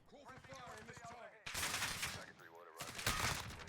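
Rapid automatic gunfire from a Kilo 141 in Modern Warfare comes in two dense bursts. Someone talks at the start of the clip, before the shooting.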